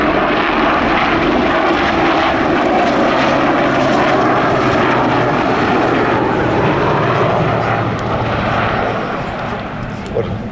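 Westland Sea King helicopter making a high-speed fly past at an air festival, a loud continuous rotor and engine roar filling the whole stretch with only a slight easing near the end.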